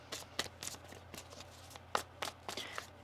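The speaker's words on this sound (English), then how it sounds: "One more shuffle here." Tarot cards are shuffled by hand in quick, faint riffling bursts and soft slaps, close by in a quiet room.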